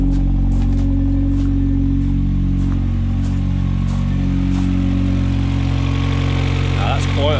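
A Ford Focus ST225 with a decat exhaust idles loudly and close by, a deep, steady rumble running throughout, with faint ticks and a brief higher sound near the end.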